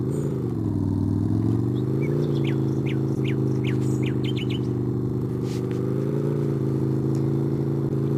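A car engine drones close and steady as the vehicle pulls away and moves off, while faint bird chirps sound outside.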